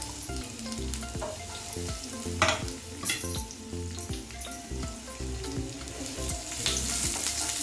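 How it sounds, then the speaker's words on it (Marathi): Onion sautéing in oil in a pan, a steady close sizzle with intermittent scraping and stirring clatter, no voices. "यामध्ये आपल्याला कांदा परतून घ्यायचा आहे"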